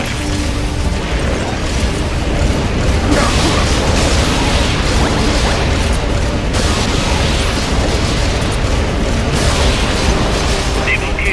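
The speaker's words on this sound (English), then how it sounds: "Flamethrower engaged." A flamethrower attack in Metal Gear Solid: Peace Walker, a loud sustained roaring blast with booming bursts and crashing impacts over about eleven seconds, dense and continuous, with game voices occasionally heard over it.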